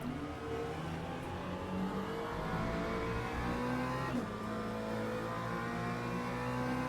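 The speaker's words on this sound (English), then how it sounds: "of course there are hypercars passing through" Racing cars in the Le Mans Ultimate sim at Portimao, a steady droning engine note rising and falling as hypercars pass through, moderately loud and continuous with no talk.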